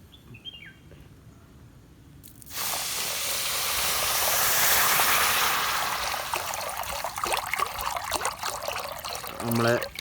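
Water is poured into a pan of sugar while making mutta mala, an egg-garland sweet: a steady, fairly loud hissing rush begins a couple of seconds in and continues, over a quiet room background.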